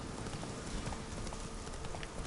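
Steady clip-clop of horse hooves trotting at an even rhythm in The Witcher III video game, close and continuous, with a faint wash of background ambience and no talking.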